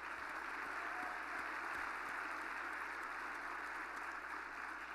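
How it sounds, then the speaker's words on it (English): Steady, even applause from a conference audience fills the space, dense and continuous without a break for several seconds. "Tyler, I'd love to have a round of applause for you."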